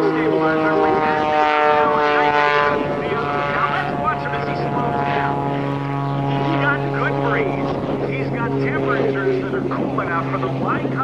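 A Lycoming-powered aerobatic airplane with a Whirlwind propeller drones at the 2013 Dayton airshow, a loud sustained propeller and engine tone with shifting pitch under continuous announcer talk.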